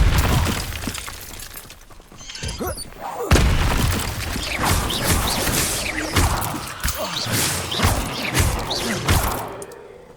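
An Incendio fire spell cast in Hogwarts Legacy, heard as bursts of whooshing flame and crackling impacts mixed into dense game effects and background music, with no talking.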